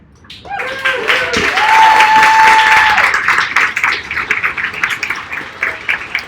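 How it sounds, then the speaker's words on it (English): Applause and clapping from a small group greeting a performer introduced as Sweet Caroline Cinderella, swelling quickly and holding steady, with a cheer or whistle and voices mixed in early on. "You're supposed to wait till I say, please a round of applause"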